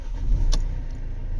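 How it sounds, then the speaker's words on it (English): A 2013 Mercedes C220 engine turns over with a short sharp crank burst, then a low engine rumble continues briefly. "So the vehicle started,"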